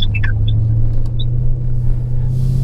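A blue Dodge Scat Pack with an open exhaust gives off a deep, steady, loud engine rumble up close, while a few birds chirp briefly near the start.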